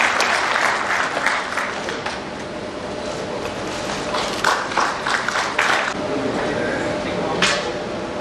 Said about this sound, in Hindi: मैं चाहूंगी कि तालियों की गड़गड़ाहट यूं ही गूंजती रहे।